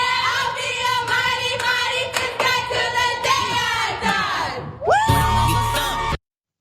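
A gymnastics team belts out a pre-event rally chant, voices shouting in unison with rhythmic clapping through several beats, then ending in a final burst of whoops and yells before cutting off.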